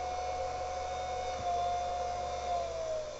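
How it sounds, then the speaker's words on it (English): The lobe blower on a mini Thunderbolt siren winds up with a moderate, steady mechanical whir and a clear tone that rises slightly and then drifts lower, plus a faint brief scratch partway through. "let's wind up the blower"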